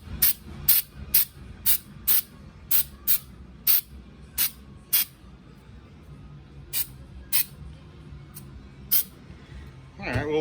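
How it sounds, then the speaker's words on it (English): An aerosol spray can coats an aluminum coil cover for a 1990 Mustang GT in short, sharp hissing bursts, about a dozen close bursts at an uneven rhythm over a low hum, with a faint voice near the end. "Okay, let's see how it sprays."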